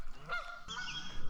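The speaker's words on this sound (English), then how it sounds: "I got Canadian geese doing it." Canada geese honk loudly and close by in two harsh, nasal calls, one right after the other, outdoors at a fishing bank with no voices.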